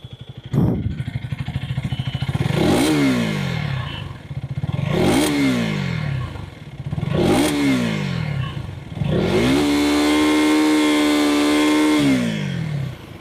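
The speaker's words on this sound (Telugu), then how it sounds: "సో ఒకసారి అయితే మీకు ఎగ్జాస్ట్ నోట్ వినిపిస్తాను చూడండి." A KTM Duke 250 motorcycle with an underbelly exhaust revs up close and loud four times in a steady rhythm, each blip rising and falling back, the last held longer before dropping to idle.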